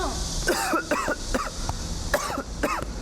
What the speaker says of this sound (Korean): 기침할 수 있어요? 그럼 기침 좀 해보세요